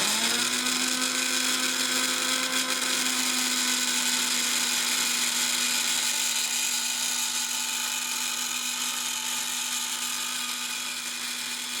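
A mixer grinder runs continuously, grinding green chutney with a little water added, a loud, steady, high-pitched motor whine with a constant hum that holds throughout and eases only slightly at the end.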